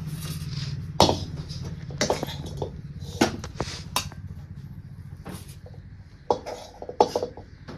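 Hot poha barfi mixture being scraped from a pan into a ghee-greased plate, with irregular metallic clanks and scrapes of a spatula against metal, sharp hits spaced a second or so apart.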